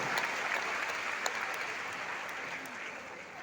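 An audience gives sustained applause for a speaker at a gathering, a soft, even patter of many hands clapping at a distance, steady from start to finish.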